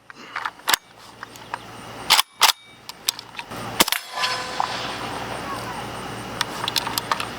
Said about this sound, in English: So we should get a nice quiet shot.